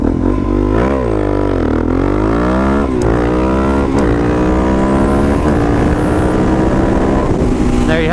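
Suzuki DR650 motorcycle riding at speed, its single-cylinder engine droning loud and close with rising and falling pitch through gear shifts, heavy wind rumble underneath throughout.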